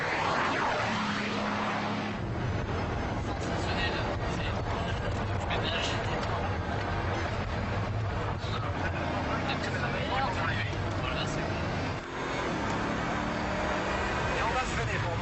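A Bugatti Veyron on a test track roars under hard acceleration and then braking, the engine and road noise a dense sustained drone, with a voice talking over it.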